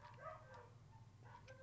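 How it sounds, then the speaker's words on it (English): Faint dog barks and yips in the distance, a few short calls over a low steady rumble, quiet overall. "Sorry about the dogs barking."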